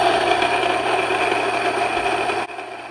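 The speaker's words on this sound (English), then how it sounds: "We are going to make some flour." A grain mill grinding grain into flour gives a loud, steady mechanical whir with a rattling grind, running continuously before it cuts off near the end.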